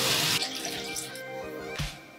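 Running tap water gushes into a sink while a reusable cotton round for makeup removal is wetted under it, with a loud close splash at first, then a steadier flow and a brief second splash.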